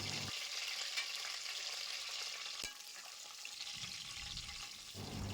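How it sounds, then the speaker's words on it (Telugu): Curry leaves and coriander frying in a pan for chicken fry piece biryani, a steady close sizzle that runs throughout, broken once by a sharp click and then by a brief low rumble before fading back to the hiss. "ఇది వేగుతుండగా 2 రెబ్బల కరివేపాకు, కొంచెం కొత్తిమీర వేసుకొని వేయించుకోవాలి"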